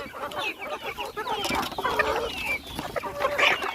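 Several chickens clucking and squawking together up close, busy overlapping calls with no talk.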